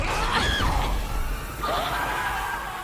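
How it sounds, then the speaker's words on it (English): A monster in the video game Resident Evil Requiem lets out a harsh, loud growl and then a shrill, strained scream in two separate bursts, over a dense noisy background. "First it's a growl, growl, and then it's a scream, and then it's like almost like a roar."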